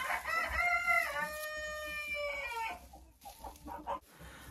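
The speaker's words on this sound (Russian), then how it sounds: "Какая-то курочка у меня здесь заквохчет." A hen clucking in a henhouse: a drawn-out, warbling call up close, followed by several softer short clucks, with no talk.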